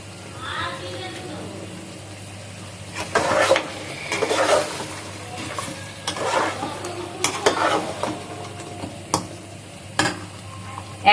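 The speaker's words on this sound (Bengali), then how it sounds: "বিরিয়ানির মশলাটা দিয়ে আমি আরো কিছুক্ষণ কষিয়ে নিব" Meat being sautéed with biryani masala in a pan, steady sizzling and frying with occasional louder scrapes and stirring clatters of a spoon against the pan.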